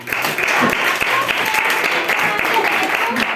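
Dense, steady clapping from a sizable group in a classroom, sustained evenly throughout without pause.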